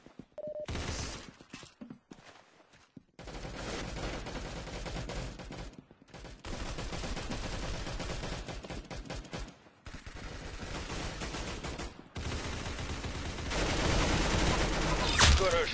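Video game gunfire rattles in dense, sustained bursts with brief silent gaps between volleys, loud and continuous; a voice speaks occasionally underneath.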